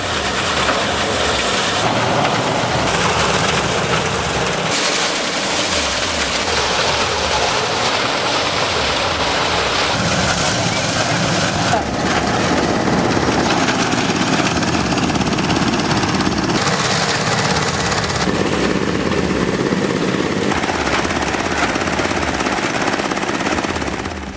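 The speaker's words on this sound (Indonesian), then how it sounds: "Jika menggunakan mesin thresher, maka kecepatan mesin harus diperhatikan agar jangan sampai terlalu kencang" A loud, steady mechanical roar of a soybean threshing machine running continuously, with rattling and grinding texture and no pauses throughout.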